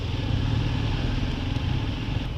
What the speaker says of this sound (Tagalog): T-Max, Yamaha T-Max 520cc.